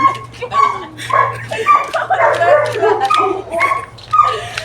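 A pitbull outdoors in Belize barks repeatedly in loud, close bursts, with whimpers and yips between them, while a person shouts excitedly over it and a steady low hum runs underneath.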